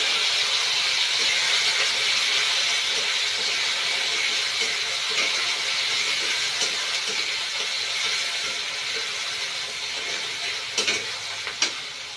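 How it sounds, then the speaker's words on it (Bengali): Shrimp frying in hot oil in a wok makes a loud, steady, close hissing sizzle that fades slightly over time, with a couple of sharp clicks near the end. "এবার আমি প্রথমে চিংড়ি মাছগুলোকে হালকা করে ভেজে তুলব।"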